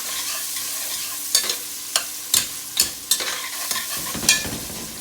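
Garlic, serrano and onions stirred in a hot pan, with a steady sizzle under several sharp scraping strokes of the spoon spaced about a second apart, close and fairly loud.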